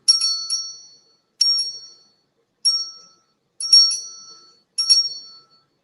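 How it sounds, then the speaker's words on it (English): A small hand bell is rung to clear a space, the kind used alongside Reiki and sound healing. Five bright, clear strikes ring out alone, each ringing on and fading over about a second before silence and the next strike. "My bell to clean space."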